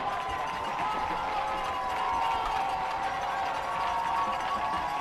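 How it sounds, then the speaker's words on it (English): Crowd noise at a college Division III football game, Aurora vs Franklin, a steady distant roar of fans filling the stands, moderately loud and continuous with no clear individual voices. "Listen to the crowd."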